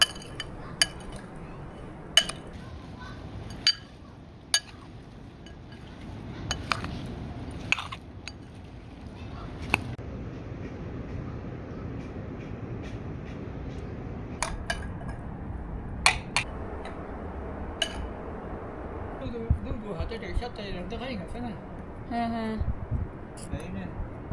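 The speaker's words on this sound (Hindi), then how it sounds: "तो अब मैं करूँगी जी ये सारे मसाले, तेल, सिरका जी सब मैं मिक्स करूँगी" Spices, oil and vinegar for a fig pickle are stirred together in a bowl, with light metallic clinks and scrapes of a spoon scattered throughout under a voice.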